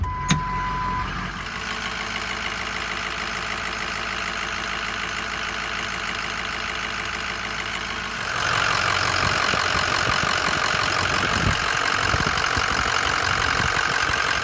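A Ford Super Duty pickup engine idles after an oil change, a steady, even mechanical drone heard up close, shifting into a rougher, louder running tone partway through, with no talk.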